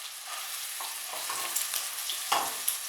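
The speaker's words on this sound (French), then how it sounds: "une fois que j'ai retourné ma côte de veau, que je l'ai bien arrosée" A veal chop fries in a pan while being basted, giving a close, crackling sizzle with a few sharper spits and spoon scrapes over three seconds.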